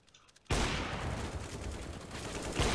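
AK rifle fire in Counter-Strike, a loud sustained burst of rapid automatic shots that kicks in abruptly after a short quiet lead-in and rattles on continuously to the end.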